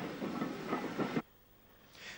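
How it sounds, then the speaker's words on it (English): A diesel locomotive of the Irish S-Class, number 440, hauls the Dublin to Dundalk passenger train north past Drogheda station, a loud rumbling engine and wheel noise that cuts off abruptly, leaving quieter background hiss. "an unidentified S-Class 440 heads north with the 2:45 Dublin to Dundalk train"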